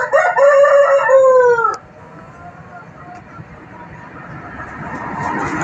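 A pet rooster crows loudly and close by in a single harmonic cock-a-doodle-doo lasting under two seconds, followed by quiet outdoor background noise.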